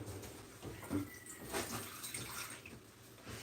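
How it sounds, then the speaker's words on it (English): Water poured from a tap or cup into coarse cornmeal batter for chicken cornbread, a soft, close splashing trickle lasting a few seconds with small sloshing bursts. "So I'm just going to put a little bit of water in here."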